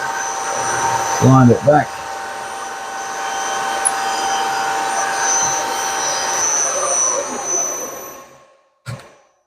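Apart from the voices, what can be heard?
milling machine cutting metal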